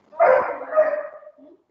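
A dog gives a short bark-like yelp that trails into a whimpering whine, close and fairly quiet, lasting under two seconds.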